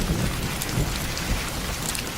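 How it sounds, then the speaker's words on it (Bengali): Steady, dense rain pours down in a cartoon village scene, a constant hiss with low rumbling swells like distant thunder, loud and unbroken with no talk. "কথাটা বলতে কিনা বলতেই বৃষ্টি শুরু হয়ে গেল"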